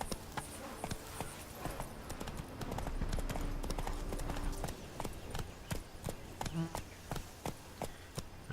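Horse hooves clip-clopping at a quick galloping pace in The Witcher 3: Blood and Wine, a steady rhythmic run of hoof beats with faint background game ambience.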